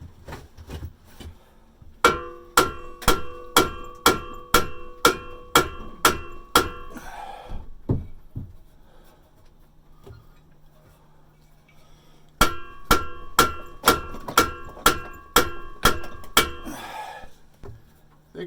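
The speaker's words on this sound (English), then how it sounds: "Try a bigger hammer." Sharp metal hammer blows strike a rusted car exhaust flange in a steady rhythm, a run of about ten ringing clangs, a pause with a low hum, then another even series of hits, loud and close with no talk.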